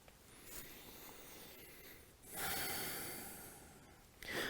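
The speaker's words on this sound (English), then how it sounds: "breathe." Breathing during a vinyasa yoga flow, with soft, faint inhales and a longer, audible breathy exhale, close to the microphone in a quiet room.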